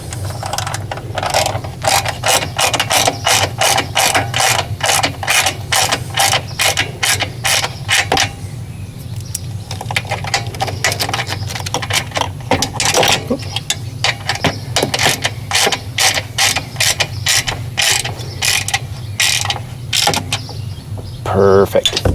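A part being tightened down on a Generac generator with a ratchet, rapid clicking strokes repeating in steady bursts close by over a low background hum, with a short pause midway.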